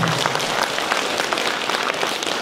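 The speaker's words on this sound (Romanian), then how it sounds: "haideți să le dăm un val de aplauze" Steady, dense applause from a concert audience in a hall in Dondușeni, many hands clapping together as a warm wash of sound for the mothers.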